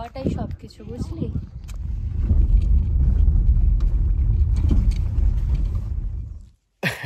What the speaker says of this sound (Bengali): ডেথ রোডের ভেতর দিয়ে আমরা এখন গাড়ি করে যাচ্ছি আস্তে আস্তে,